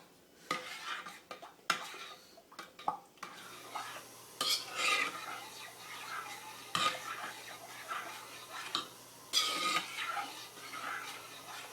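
A utensil stirs fragrance oil into thick shampoo bar soap batter in a container, making repeated scraping, knocking strokes in an uneven rhythm, close and fairly clear.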